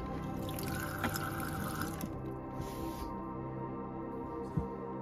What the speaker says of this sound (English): I've never turned this tap on.